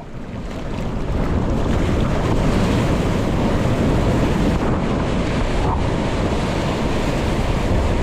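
Broad, continuous rushing of ocean water and surf off Waikiki Beach, Hawaii, at night, heavy with wind buffeting the microphone, loud and steady without clear breaks.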